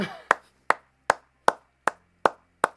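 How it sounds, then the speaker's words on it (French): Seven slow, evenly spaced single claps ring out sharply and alone at a deliberate, steady tempo, each one crisp and separate. "merci d'applaudir"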